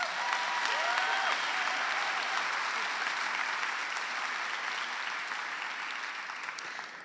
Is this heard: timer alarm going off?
no